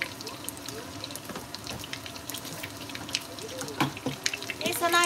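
Kitchen tap water runs into a sink while dishes are washed after frying thick tuna and cheese sandwiches, a steady close splashing with clinks of dishware and a soft murmur of speech underneath.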